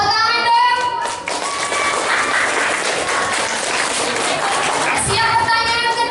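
Children clapping their hands in a classroom, a sustained burst of many hands applauding together, loud and close, with brief kids' voices around it.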